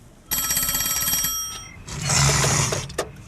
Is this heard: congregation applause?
no